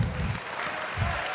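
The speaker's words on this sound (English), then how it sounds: "Everyone clap your hands for Hellboy." An audience claps at a martial arts combat event for the fighter Hellboy, a short burst of steady, close applause lasting just over a second.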